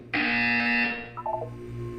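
A buzzer in the video game Portal 2 sounds one loud, sustained electronic tone that ends abruptly, followed by a short descending run of quieter chime-like beeps.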